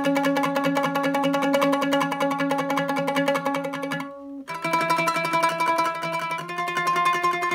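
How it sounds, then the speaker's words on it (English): A mandolin plays a string part with continuous tremolo, a dense rapid shimmer of sustained chords that breaks off briefly for a short gap and then resumes, close and alone. "if we use a continuous tremolo, it would sound like this."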